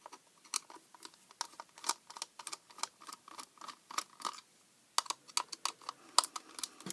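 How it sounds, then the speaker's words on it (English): The case of an LED projector is unscrewed by hand, giving a run of small, quiet, irregular clicks and ticks from the screwdriver and screws, close up with no talk. "Let's unscrew this."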